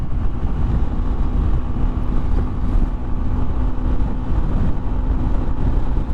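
Steady road and wind roar from a Honda ADV 150 scooter cruising around 50 mph on a busy road, with cars rushing past close by, continuous and loud throughout.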